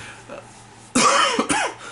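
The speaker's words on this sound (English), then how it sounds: "Sorry, I have to keep clearing my throat for some odd reason right now." A soft murmur, then a sharp, harsh throat clearing up close, repeated in two quick rasping bursts.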